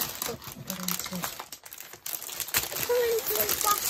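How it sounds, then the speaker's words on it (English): A huge plastic bag crinkles steadily and close while a diamond painting craft kit is unboxed, with rustling handling throughout. "That is one huge plastic bag."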